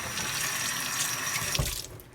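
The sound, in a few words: water running from kitchen tap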